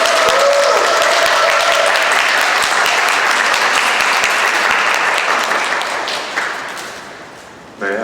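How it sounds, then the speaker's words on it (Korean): An audience at an artist talk applauds to welcome the artist. The dense, loud, sustained clapping holds for several seconds, then tapers off as a voice begins. "큰 박수 부탁드립니다"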